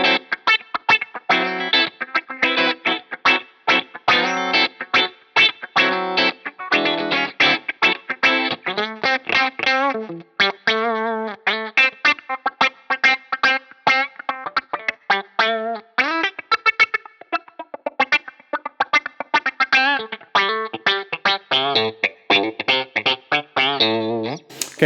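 Electric guitar through a Line 6 Helix effects patch with distortion and modulation, played in quick rhythmic chopped phrases with some sustained notes, loud and continuous with no voices.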